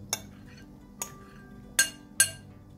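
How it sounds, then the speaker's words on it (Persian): Spiced potatoes are tipped into an oiled oven dish, giving four sharp clinks and knocks spaced apart, quiet with a soft background in between. "بعد سیب زمینی های ادویه‌ای رو داخل ظرف فر میریزم،"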